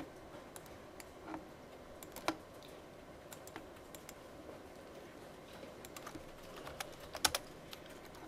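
Typing on a computer keyboard: scattered soft key clicks at an irregular pace, some strokes sharper than others, faint and close over a quiet room hiss, with no talking.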